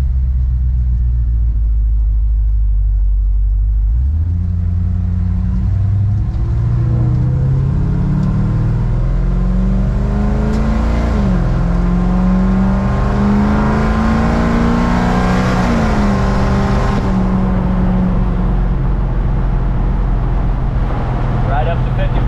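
A 1968 Chevrolet C10 pickup truck accelerates at about half throttle through its gears up to highway speed, the engine rising in pitch, dropping at a shift, then climbing again, loud and close from inside the cab.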